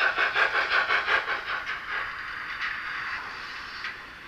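A TT-scale Gützold class 65 model steam locomotive with a sound decoder runs along the track, giving rhythmic synthetic steam chuffs that are quick and evenly spaced at first, then blur into a steady hiss.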